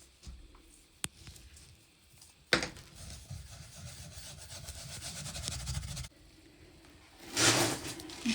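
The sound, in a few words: rubbing vermiculite repair mix into wood stove panel surface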